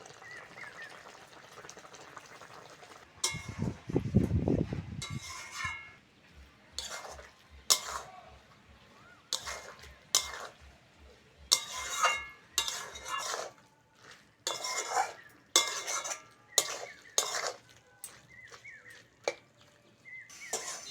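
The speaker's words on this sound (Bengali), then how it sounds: "ভেজে রাখা চিংড়ি মাছগুলো দিয়ে দেবো।" Fried shrimp go into a pan of boiled potatoes, and a utensil scrapes and stirs against the metal in repeated close strokes, with a brief low sizzle at the start and soft frying underneath.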